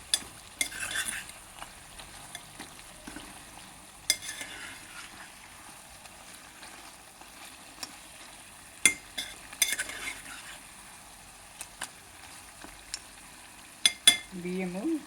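Yogurt goes into ginger garlic paste frying for mutton biryani, giving a steady soft sizzle broken by scattered clinks and scrapes of a spoon against the pan.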